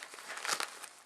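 Plastic zipper baggies stitched into a craft organizer crinkling in one short, faint, close rustle that peaks briefly.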